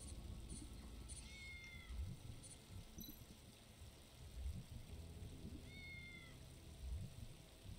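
Cat meowing twice in the video game Tales of the Neon Sea, two short rising-falling meows about four seconds apart over a steady bed of rain and low rumbling ambience, no talk.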